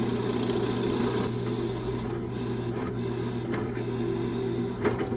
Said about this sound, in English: we're going to do the countersink